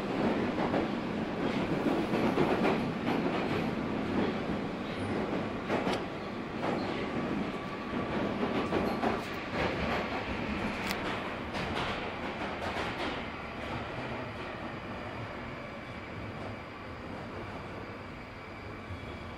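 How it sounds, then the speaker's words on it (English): A London Underground Northern Line train rumbles steadily along the track between South Wimbledon and Balham with a loud, continuous roar and rattling clicks, heard from inside the carriage. "This train terminates at Edgware, via Bank."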